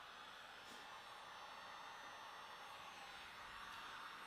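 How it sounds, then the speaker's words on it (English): A heat gun blows steadily and quietly for the whole stretch, an even airy whoosh with a faint electrical hum, used to melt wax on a photographic encaustic piece. "turn the heat gun on."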